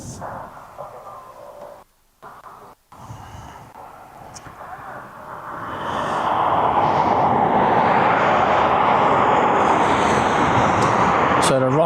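A Ryanair airliner approaching East Midlands Airport for runway 09 builds from a faint distant rumble into a loud, steady engine roar that holds for the final six seconds, with brief dropouts early on.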